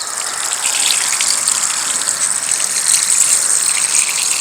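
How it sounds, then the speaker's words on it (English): Water gushes steadily from a hose or can onto freshly transplanted tomato plants in a garden bed, a continuous close hissing pour with no talking. "I'm gonna water these plants in really good."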